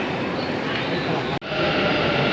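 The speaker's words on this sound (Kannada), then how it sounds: "ಮೆಟ್ರೋ ಹೋಗೇ ಬಿಡ್ತಾನೆ." A metro train pulls out of the station with a steady low rumble and hiss filling the platform, briefly cut by a short gap before the drone returns; nearby talk is faintly mixed in.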